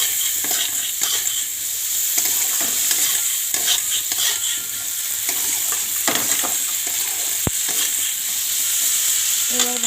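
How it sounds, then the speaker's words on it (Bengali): Spices with turmeric powder sizzle and fry in a pan for pasta while being stirred, a steady crackling hiss broken by scraping strokes and one sharp clink of the utensil against the pan. "এবার ভাজতে থাকি লাল লাল করে"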